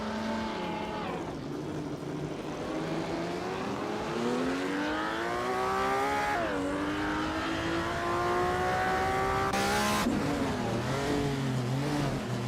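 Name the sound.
1962 Ferrari 250 GTO car engine in a racing video game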